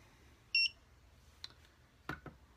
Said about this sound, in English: Basically, you just scan it, boom, gives me a little beep.